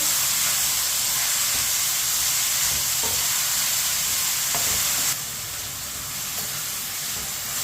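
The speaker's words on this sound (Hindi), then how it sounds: "पालक डाल लेंगे। पालक को मिक्स कर लेंगे।" Chopped spinach hits a hot frying pan over a medium flame with a loud, dense, continuous sizzle and hiss of steam that eases slightly partway through, with faint stirring beneath.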